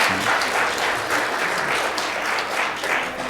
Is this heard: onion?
no